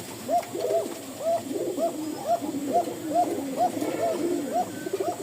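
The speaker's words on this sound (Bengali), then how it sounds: "যারা ককা নিবেন ডাক দেখে নেবেন ইনশাল্লাহ লম্বা ডাকের দেখছেন লম্বা ডাক" Cocka pigeon, a Bashiraj breed, giving a long, thin call: a steady run of about a dozen soft, evenly spaced coos over a low murmuring bed of other pigeons nearby.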